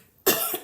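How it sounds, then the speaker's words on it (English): A single short, sharp cough from a woman, close and fairly loud, after a brief moment of near silence. "excuse me, I'm going to cough, y'all."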